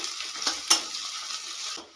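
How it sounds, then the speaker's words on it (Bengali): Onions sizzling in a hot pan, a steady frying hiss with a few scraping stirs from a spatula, no talking. "পেঁয়াজটাকে হালকা করে ভেজে নেবো আগে"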